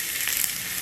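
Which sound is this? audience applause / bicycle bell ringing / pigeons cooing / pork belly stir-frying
pork belly stir-frying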